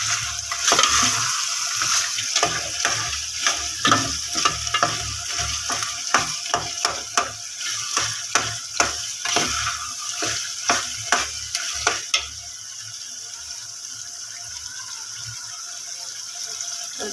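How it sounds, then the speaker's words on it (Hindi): Masala sizzles and crackles loudly in a pan after half a glass of water is added for a white chana and egg curry, with repeated clattering stirs through most of the clip before the frying settles into a steady hiss. "इसमें आधा गिलास मैंने पानी ऐड कर दिया।"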